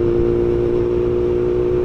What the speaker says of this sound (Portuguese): Ela não tá com som de Bandit, ela tá um negócio muito grave.